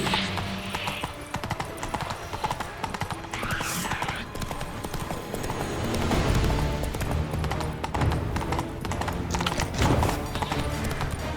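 Roach, Geralt's horse in The Witcher 3: Blood and Wine, gallops with a steady, rapid clip-clop of hooves that stays close and continuous beneath game music and ambience, with brief voices in the background.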